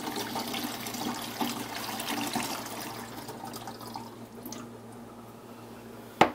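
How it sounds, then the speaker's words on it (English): Cold water pours steadily into an espresso machine's water tank with a soft, splashy gurgle that gradually fades, ending with a sharp click. "pour in some cold water, which will go down into the tank inside the machine."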